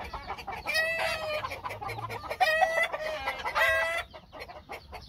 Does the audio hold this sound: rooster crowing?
yes